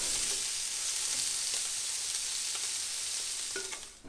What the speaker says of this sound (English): I'm just gonna cook the shrimp long enough for it to turn color.